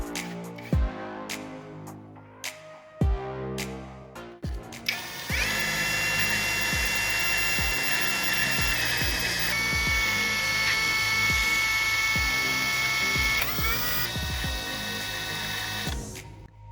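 Power tool sharpening the end of a carbon rod for a soldering iron repair: a few short bursts and clicks, then a loud continuous whine that holds steady for about eleven seconds before winding down.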